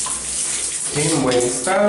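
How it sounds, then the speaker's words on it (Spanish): A bathroom shower runs with a steady hiss of spraying water, close and fairly loud, while someone speaks Spanish over it. "Observamos ducha funcionando"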